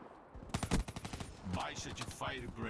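Rapid bursts from the Kuda submachine gun in Black Ops 3, a quick string of sharp, evenly spaced shots followed by more scattered firing, with a voice talking over the action.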